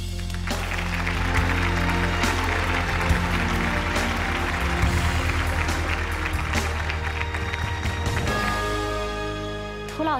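Studio audience applause greets a guest walking onto a Chinese relationship-mediation talk show, a steady wash of clapping laid over loud stage music that swells near the end.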